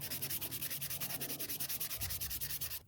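Hand sanding of sculpted creature skulls: rapid, even back-and-forth strokes of abrasive rasping against the surface, close and steady in a regular rhythm, with no voices.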